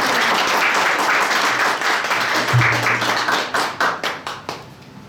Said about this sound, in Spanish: el otro aplauso para cerrar la noche